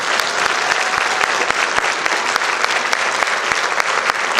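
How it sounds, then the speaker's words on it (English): Loud, close applause for state officers standing in the room, a dense continuous clatter of many hands with sharp individual claps popping out of the wash throughout. "Let's give them another big round of applause."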